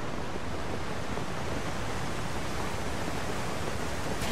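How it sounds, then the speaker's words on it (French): A steady, dense rush of falling water from a waterfall in Zelda: Tears of the Kingdom, a constant broadband roar holding even throughout with no voices. "maintenant que cette cascade elle est là"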